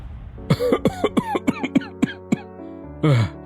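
An old man, weak and ill, coughs in a rapid run of about ten close, rasping bursts, then gives one longer strained cough after a short pause, all near and alone.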